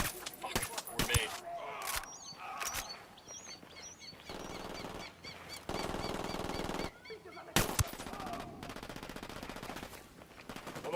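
Automatic gunfire in the Ghost Recon Wildlands video game, with repeated sharp bursts and rattling machine-gun volleys alternating with pauses, mixed with game sound effects and voices in between.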